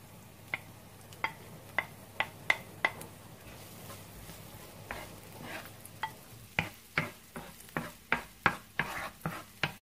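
Garlic sautéing in hot olive oil in a pan gives a low, steady sizzle, broken by a run of sharp clinks and scrapes from a utensil stirring against the pan. The clinks come faster toward the end.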